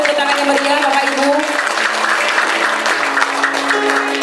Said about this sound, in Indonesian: Kita iringi dengan tepuk tangan yang meriah Bapak Ibu.